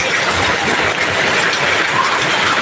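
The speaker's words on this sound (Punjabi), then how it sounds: "ਦੇਖੋ ਇਧਰ ਗੱਡੀ ਆ ਰਹੀ ਆ" Heavy downpour in a Punjab village, loud and continuous, with a vehicle rumbling past through the water. A dense roar fills the whole stretch at a steady level and no one speaks.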